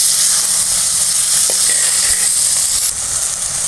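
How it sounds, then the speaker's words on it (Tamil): Tomatoes sautéing in a pan for a musumusukkai greens chutney, a steady broadband sizzle and hiss running throughout, with a couple of faint stirring clicks midway. "தக்காளி கொஞ்சம் நேரம் வதங்கட்டும்"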